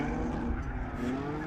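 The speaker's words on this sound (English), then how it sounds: "just hearing the note of Brad's car through the corner sounded like an old Corolla going up a hill" Drift car engine at a state-series drifting round, its steady droning note held loud and close through a corner for the whole stretch, with a hint of tyre noise beneath.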